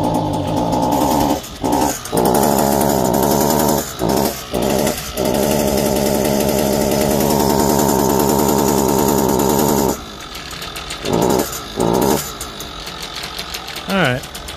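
Two repaired string trimmer weed eaters idle and rev with a loud, steady small two-stroke engine drone, cutting out briefly several times and sputtering back, with a person talking over them.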